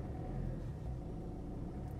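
A car engine rumbles low and steady from inside the cabin during a driving lesson, a continuous muffled hum with no clear rise in pitch and no talk.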